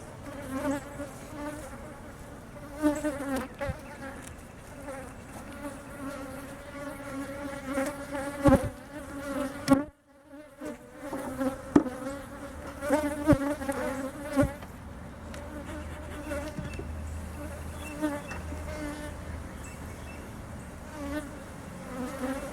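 Honeybees from a rescued feral colony drone around an open beehive during a hive check, a steady close buzz with individual bees swelling louder as they fly past, broken by a brief silent gap midway.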